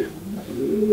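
Racing pigeons coo in a simple loft, a low, soft throaty murmur heard close up in one brief burst.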